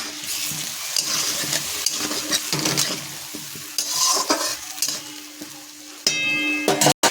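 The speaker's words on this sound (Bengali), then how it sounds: "আলুটা দিয়ে আমি টমেটোটা দিয়ে কষাবো" Potatoes and tomatoes with green chilli fry in a pan for a fish curry, sizzling steadily while a spoon stirs and scrapes through them, with brief clanks of utensils and a louder hiss toward the end.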